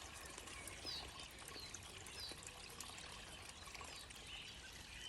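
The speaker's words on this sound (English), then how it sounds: "you follow the little stream down and you see the water and you hear it." A small stream trickling and splashing steadily, a continuous watery hiss with faint bird chirps in the distance.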